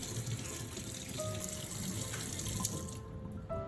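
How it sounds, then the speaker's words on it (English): Tap water runs steadily into a sink while a knife is rinsed after rust removal, a continuous close splashing hiss with small drips and clinks throughout and no voices. "rinse the knife thoroughly under running water to remove any remaining rust residue"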